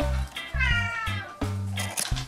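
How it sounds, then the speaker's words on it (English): A kitten meows repeatedly at close range, several short, insistent cries in quick succession, with a low background hum between them. "Oh, look, it's baby kitty."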